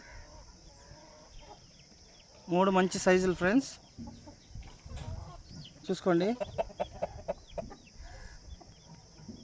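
Year-old roosters of about three to three and a half kilograms cluck and give clipped, crowing-like calls in two clear bursts, close and fairly loud, with someone talking in between.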